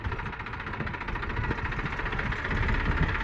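Tractor engine running steadily nearby on a farm, a dense rattling diesel-like chug with a continuous knocking rhythm that swells slightly toward the end.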